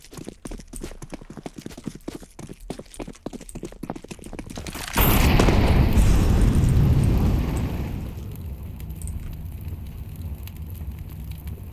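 An incendiary grenade bursts into fire in Counter-Strike 2, a sudden loud whoosh of roaring flames that burns steadily for a few seconds, then dies down to a low crackle, following quick footstep-like clatter.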